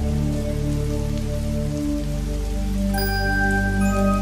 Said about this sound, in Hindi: बस बारिश की हल्की सी आवाज गूंजती रही।